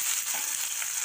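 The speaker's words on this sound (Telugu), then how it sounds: "చూడండి, నూనె కాగిపోయింది. కొంచెం జీలకర్ర వేసుకోండి. వేసుకుని ఈ ఉల్లిపాయ ముక్కలు వేసేసుకుని" Onion pieces and cumin seeds hit hot oil, a brief, close, hissing sizzle that stays steady and bright throughout.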